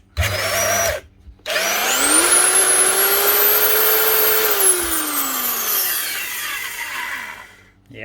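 An old power tool, about 23 years old, with worn grinding bearings spins up after a short false start. It gives a loud rough whine that climbs, holds, then winds down as it coasts to a stop, close up with no talk.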